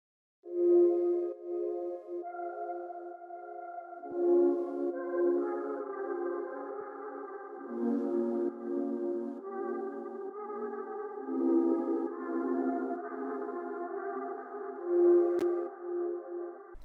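A dark synth lead melody in a vibey R&B beat plays over a sustained pad, shaped by a reverse strummers preset and a bandpass EQ, with swelling, effect-laden tones that stay fairly loud and alone.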